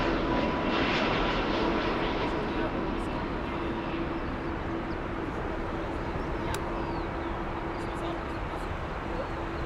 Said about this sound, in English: Aer Lingus, Flight 65, inbound from Dublin on an A320-200.